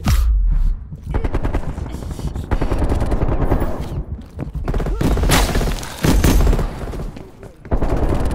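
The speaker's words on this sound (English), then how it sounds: "Throwing flashbang." Grenades and gunfire in a Call of Duty match, with a flashbang thrown and bursting amid loud, nearly continuous bursts of rapid shooting and thuds, under a voice talking over the game.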